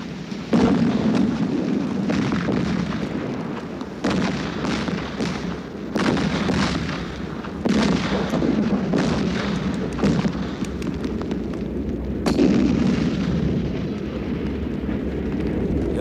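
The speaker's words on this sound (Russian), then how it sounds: "Это безумие, они стреляют по своим. Артиллерия, что с ней делать?" Heavy artillery fire in a 1993 German war film about the Battle of Stalingrad, a series of loud booming blasts every second or two with rumbling echoes between, dense and close, and no clear speech.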